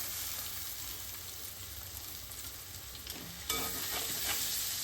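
Curry leaves hit hot oil in a pan and sizzle steadily, a close crackling hiss that jumps louder near the end as they are stirred in.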